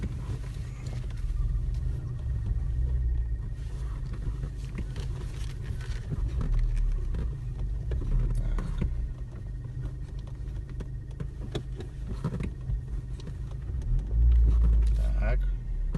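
A turbocharged propane-fuelled Chevrolet Optra idles with a steady low engine rumble while reverse gear fails to engage, with faint clunks and shuffling throughout and a louder surge near the end.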